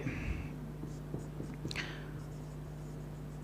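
A pen writes by hand in a brief patch of faint scratchy strokes, close, over a steady electrical hum.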